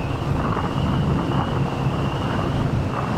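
Strong wind in Dingle roars steadily into the microphone, a dense, constant rumble with buffeting low gusts throughout and no voices.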